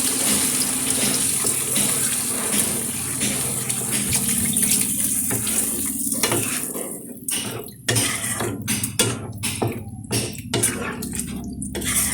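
Water pours steadily into a pan during chilli fish cooking, a continuous close gush that breaks into splashy, uneven bursts toward the end.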